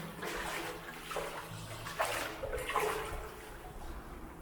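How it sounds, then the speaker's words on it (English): Rushing water flows continuously through a Victorian tunnel with a hollow, echoing wash, swelling in a few surges before settling. "The sound of that water, it's amazing"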